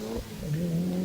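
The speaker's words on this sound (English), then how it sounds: "we pick up the mighty Datsun 240Z" A Datsun 240Z modified production race car at a hillclimb, engine note rising steadily in pitch as it accelerates, fairly loud and close for about a second with no talk.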